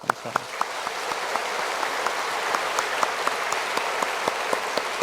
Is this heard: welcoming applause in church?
yes